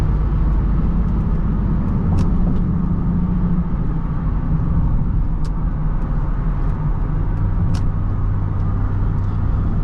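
A 2005 Honda Pilot EX-L's V6 engine drones steadily from inside the cabin while driving, a loud continuous low rumble with road noise that holds level throughout, no voices present.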